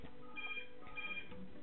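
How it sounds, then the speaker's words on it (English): A telephone rings in the SimCity video game, a faint, tinny electronic ring pulsing in two short bursts over steady game background sound. "there's the phone going"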